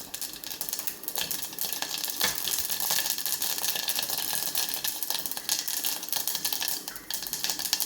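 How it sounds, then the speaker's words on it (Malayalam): Mustard seeds crackle and pop in hot oil in a pan while drumstick leaf curry is being made, a dense, continuous spatter of sharp little pops close by with no talking. "കടുക് പൊട്ടി"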